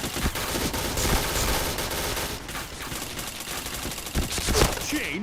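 Dense, rapid-fire shooting from a shooter video game rattles on continuously, loud and busy with overlapping shots and sharp impacts, with no speech heard.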